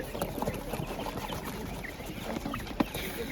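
Broiler chickens for sale at an outdoor market, with scattered soft clucks and short calls over a busy background murmur, one sharper squawk standing out near the end.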